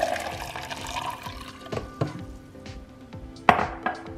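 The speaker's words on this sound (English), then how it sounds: "And then I'm gonna pour the tea into the cup." Brewed tea for homemade milk tea boba poured into a cup: a soft, trickling liquid stream with a few light clinks and taps of the cup, quiet and close, no voices.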